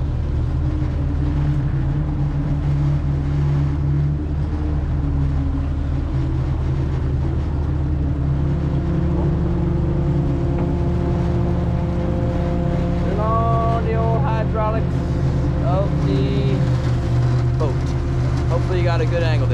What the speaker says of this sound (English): So turn on the hydraulics.